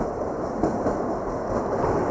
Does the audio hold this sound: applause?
no